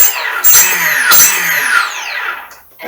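Electric motor of a Fournier RF4 RC model plane revving up and down during a throttle test, with high whining tones sweeping in pitch over a few seconds, close and fairly loud, then cutting off near the end.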